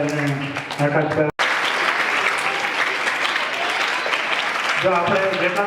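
A crowd claps loudly and continuously at a cricket academy felicitation during selection day in Hanol, a sustained wash of applause bracketed by short bits of speech, with a brief gap early on.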